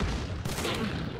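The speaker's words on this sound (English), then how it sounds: "Shotgun right now." Shotgun blast in the video game Hunt: Showdown, one loud broadband boom with a short rolling echo.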